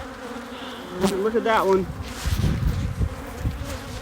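Honeybees buzz around an opened hive frame where new bees are emerging from their cells, with a close, wavering drone rising and falling while a person speaks briefly over it.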